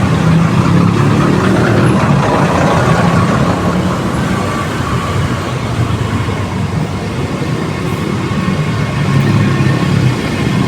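Dense, steady traffic noise on a congested Pasig road fills the scene, with a continuous low rumble of idling car and bus engines close by and no distinct pauses.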